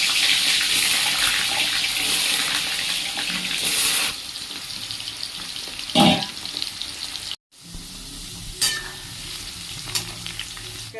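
Potatoes frying in hot white oil in a hot pan, a steady crackling sizzle running throughout with occasional stirring scrapes and louder bursts, no talk.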